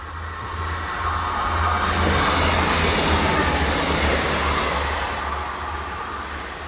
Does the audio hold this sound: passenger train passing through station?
yes